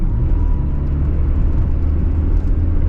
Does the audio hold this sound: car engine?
yes